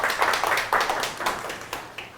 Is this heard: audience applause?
yes